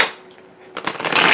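Tarot cards being shuffled, a dense papery riffle that starts abruptly after a quiet pause and keeps going close and loud to the end.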